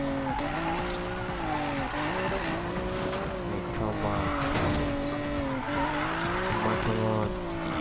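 A car drifts in the racing game Need for Speed Payback with a long, loud tire squeal over a droning engine, while a person talks over the game sound.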